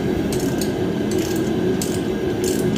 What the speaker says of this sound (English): Start tightening all your 10 millimeters up.